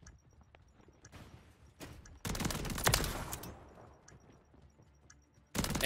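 Shotgun fire in Call of Duty: Modern Warfare 3, a full-auto AR-style shotgun: scattered faint shots, then a loud dense burst of blasts in the middle and another sudden loud blast at the end.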